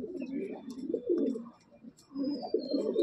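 Madrasi pigeons in a loft at Barasat coo in low, throaty bursts, two main phrases separated by a brief lull, close by with faint high chirps in the background.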